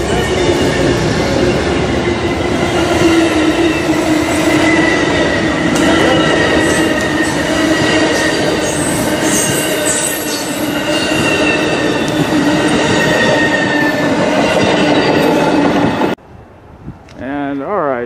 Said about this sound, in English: the final train of the day is uh, Amtrak Pacific Surfliner 777